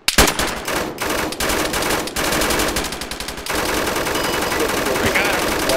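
Dense gunfire in the video game Arma 3, rapid machine-gun bursts and repeated loud shots in close succession, continuous and sustained throughout.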